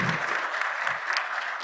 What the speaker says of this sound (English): I think you deserve a clap for organizing team and everyone.